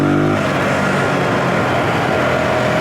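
Zontes G125 125cc motorcycle engine lugging at low revs around 2,000 RPM, a steady, close, rumbling drone that holds evenly throughout without rising, heard alone with no talking.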